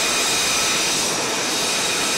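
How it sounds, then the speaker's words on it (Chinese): F/A-18 Super Hornet and F-35C fighter jets launching from the flight deck of the aircraft carrier USS Lincoln during the 2022 RIMPAC exercise, a loud, steady broadband jet roar filling the whole stretch and cutting off abruptly at the end. "火力强大的战机频繁起飞，平均1分钟就有一架"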